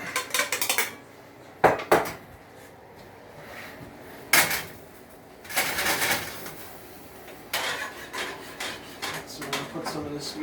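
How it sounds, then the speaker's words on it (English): Cooked meat is strained through a metal strainer in a kitchen sink, with intermittent bursts of clanking metal, scraping and rattling utensils, close by and separated by quieter pauses. "We're going to strain my meat out."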